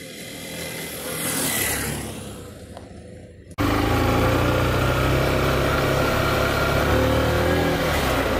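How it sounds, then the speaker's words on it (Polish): A Honda CB 125 F (GLR 125) motorcycle's engine and exhaust starts about halfway through with a sudden, loud, steady running roar that continues to the end. A quieter, fluctuating background sound comes before it. "Dźwięk wydechu w tym motocyklu jest, powiedzmy sobie, akceptowalny."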